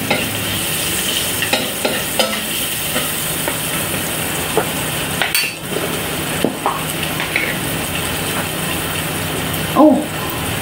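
Onion sizzles steadily in hot oil in a pan while a utensil stirs and scrapes it with small intermittent clinks, close and fairly loud, no talking.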